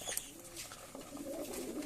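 Domestic pigeons cooing at evening feeding time, soft low throaty coos repeating over a faint background with light bird chatter, fairly quiet and close.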